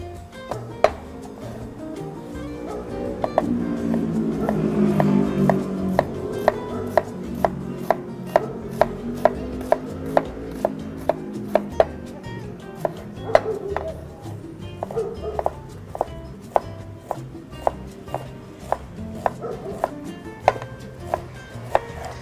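Onion being finely chopped with a knife on a board, with a long run of quick, evenly spaced close knife taps over a low background murmur.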